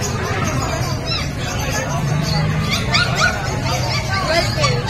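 Small dogs, Pomeranians, yip and bark amid the crowd babble of a busy pet market, the yaps light and scattered under a constant hubbub of voices nearby.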